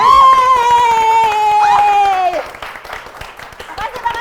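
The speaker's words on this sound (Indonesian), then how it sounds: "Untuk itu beri tepuk tangan dulu untuk" A long, loud held vocal note gives way to a burst of group clapping and crowd noise at a quiz show, lively and close.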